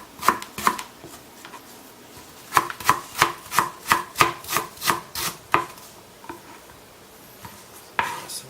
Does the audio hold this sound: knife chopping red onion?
yes